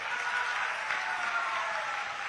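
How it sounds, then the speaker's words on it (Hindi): A crowd at a large outdoor political rally in Salempur, Uttar Pradesh, claps steadily for the local MP. The applause is a dense, even patter that holds at a constant level throughout, with no clear voices over it. "बलिया के सांसद जी के लिए जोर से ताली बजाइए जरा।"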